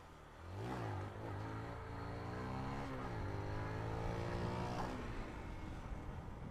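Small motorcycle engine revving hard during a wheelie before work, buzzing and rising in pitch, dipping and climbing again through a few throttle surges, fairly close and loud.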